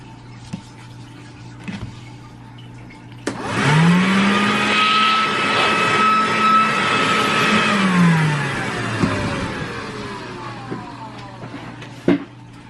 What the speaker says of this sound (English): let me vacuum it out again